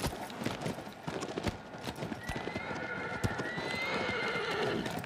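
A horse gallops in Shadow of the Colossus on PS4, rapid clip-clop hoofbeats close and continuous, with a whinny and rushing wind, while a player speaks briefly over it.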